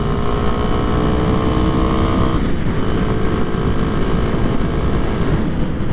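A 2023 Kawasaki KLX300SM supermoto cruises in the low-to-mid RPM range with a loud, steady engine drone and wind rush. The pitch dips briefly partway through, then holds steady.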